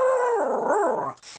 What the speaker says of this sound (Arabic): كلب